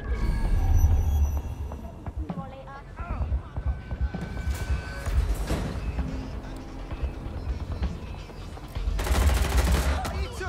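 Gunfire from the video game Watch Dogs Legion rattles in repeated bursts and volleys, loud and busy, with a heavy flurry near the end over a dense game soundscape.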